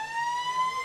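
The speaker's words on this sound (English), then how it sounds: "And it's a three-quarter time siren goes." Three-quarter time siren at a South West Football League Australian football match between Bunbury and Busselton, a loud steady electronic tone holding one pitch throughout with no voices over it.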